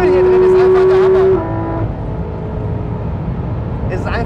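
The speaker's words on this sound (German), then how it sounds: "Diese Soundkulisse hier drin, dieser 16er Boxermotor, der reißt so dermaßen auf, das ist unnormal" Porsche 991.2 GT3 RS with its boxer engine revving, heard from inside the cabin: a loud, steady high-pitched engine note holds for just over a second, then drops away into a lower, rougher rumble that continues to the end.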